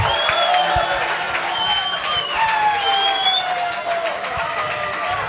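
A live crowd at a GNB 2019 solo beatbox semi-final claps, cheers and whoops for DJ B3AN, a loud, steady roar of applause with whistles and shouts filling the whole stretch.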